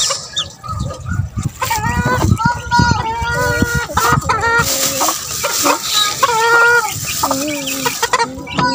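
Green-legged chickens cluck repeatedly and loudly at close range on a small gamefowl farm, with other fowl calls mixed in and someone talking over them throughout.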